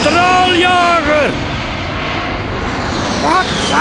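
A jet fighter roars overhead in a continuous loud rush, its pitch sliding downward as it passes, with cartoon character voices speaking over the start and end.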